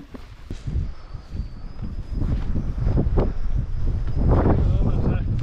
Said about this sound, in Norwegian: Det er windy her, da.